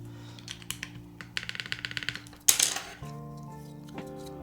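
Keys clatter on a custom mechanical keyboard with ABS keycaps in quick bursts of close, crisp clacks. A louder jangle follows, then a soft sustained tone.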